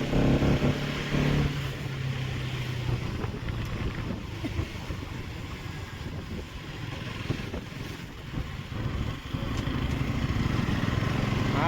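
A Bajaj motorcycle engine runs steadily nearby, a continuous rough rumble with a little wind buffeting over the microphone and no talk.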